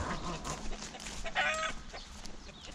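Backyard chickens in a coop clucking near a black hen, a string of soft, uneven clucks and brief squawks close by, with faint outdoor ambience and no talking.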